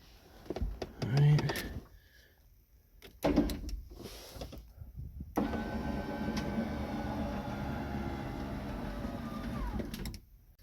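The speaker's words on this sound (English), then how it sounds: "See if we can get this thing to roll the window up." A power window on a Camaro drag car rolls up, a steady motor whir running several seconds after a few clicks and handling noises, with brief indistinct voices before it starts.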